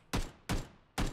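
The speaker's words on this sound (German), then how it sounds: "Ich kann vor allem die Schüsse nicht zuordnen" Three sharp gunshots from the battle-royale game PUBG, evenly spaced about half a second apart, each a loud crack with a short decaying tail, heard alone.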